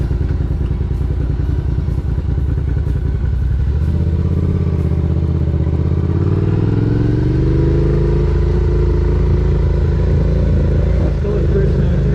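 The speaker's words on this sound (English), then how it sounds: "a little bit of gas, let the clutch out, and then right turn into here" A motorcycle idles with a loud, lumpy engine rumble, then the revs rise and the pitch climbs as it pulls away in first gear, wind buffeting the microphone throughout.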